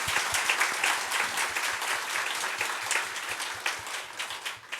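A church congregation applauding to welcome guests during a Sunday service, with brisk, dense clapping that holds steady and then starts to thin toward the end.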